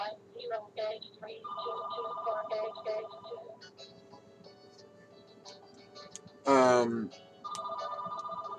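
A telephone rings with repeated electronic trilling tones in two separate spells, mixed with a voice and room noise in between.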